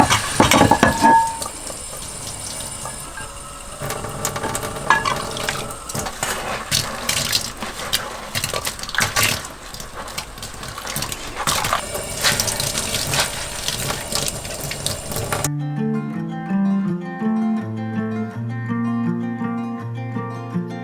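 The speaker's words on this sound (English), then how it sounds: "I think I'm gonna do the dishes and then I'm gonna get ready to make dinner." Dishes, pots and cutlery being washed with hot water in a camper van, a busy run of clinks, scrapes and splashing water that stops abruptly, giving way to music.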